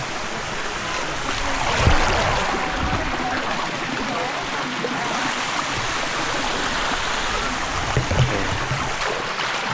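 Stream water rushes steadily at Erawan waterfall, a loud, continuous broadband wash recorded up close, with a few brief splashes and thumps.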